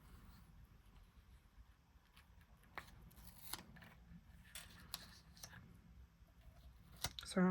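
Scissors trimming card or paper to size for a handmade craft project, heard as a series of quiet, close snips and clicks amid faint handling noise.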